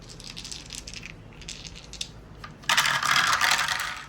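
Dice clatter and rattle on a hard surface during a tabletop game, with light tumbling clicks first and then a louder, sustained rolling rattle near the end.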